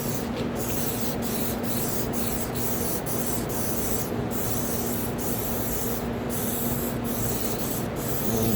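KIWI Camp Dry Heavy Duty Water Repellent sprays onto boots in a long, close hissing stream, broken by several brief pauses between bursts, with no talking.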